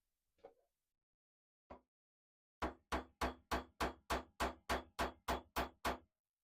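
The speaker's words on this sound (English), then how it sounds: "I'm going to hammer the end flat" Hammer flattening the end of a 12 gauge wire for a wire-wrapped hair pin: two light isolated taps, then a fast even run of about a dozen sharp, close metallic strikes.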